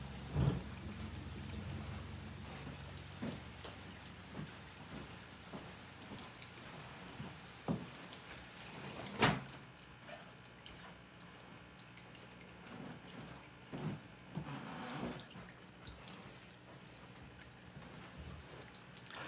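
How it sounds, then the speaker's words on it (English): Steady heavy rain pours outside an open window, a continuous hiss of drops striking surfaces, with a sharp crack of thunder near the middle and a few scattered louder knocks and splashes across the downpour. "all of a sudden there's rain pouring in"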